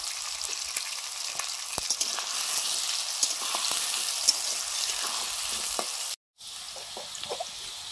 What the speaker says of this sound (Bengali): আলুগুলো ভেজে নিচ্ছি, গুগলির আলুগুলো